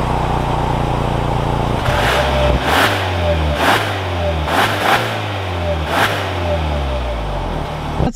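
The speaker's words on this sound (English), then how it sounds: "let's take this new Santa Fe out and see how it drives" A 2021 Hyundai Santa Fe Calligraphy SUV pulling away, its engine revving up through several gear changes in a steady, fairly loud drone heard from inside the cabin, with no speech.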